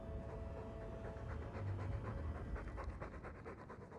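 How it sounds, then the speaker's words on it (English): A dog pants rhythmically in the video game Dragon Age 2, with quick, steady breaths continuing close and fairly loud through the whole stretch. "All that noisy dog breath, day in, day out, make him stop."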